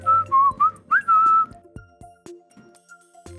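A character in the courtroom game Ace Attorney: Spirit of Justice whistles a brief wavering tune in two close phrases, followed by sparse clicks and soft knocks as the whistle stops.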